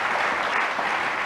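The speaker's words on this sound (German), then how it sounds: "So, und jetzt mit Beifall" Steady, dense studio audience applause fills the whole stretch on a German TV show with Heidi Klum, loud and continuous with no break.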